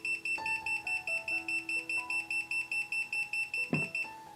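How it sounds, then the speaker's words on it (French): A self-levelling laser level sounds its out-of-level warning, a loud, rapid run of even electronic beeps repeating steadily near the listener, with a brief clunk partway through. "il a une alarme au cas où il n'est pas bon"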